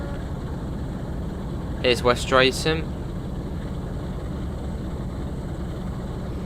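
A diesel locomotive engine in the Train Sim World 2 game drones steadily throughout as a loud, broad rumble, with someone speaking briefly over it.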